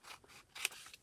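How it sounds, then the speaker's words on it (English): Scissors cut paper for a spring-themed collage, making a couple of quick, faint snips close by in a quiet room. "So I'm just going to cut it."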